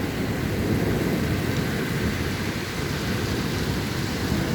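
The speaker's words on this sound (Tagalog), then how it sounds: "Pumasok na ang hangin. No? Dinala ng hangin ang ulan." Heavy wind-driven rain pours outside a window, a dense, constant roaring wash of water that stays loud and unbroken throughout.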